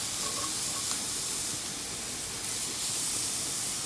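Scallops searing in a hot pan on high heat, a continuous faint hissing sizzle with gentle swells, heard alone without talk.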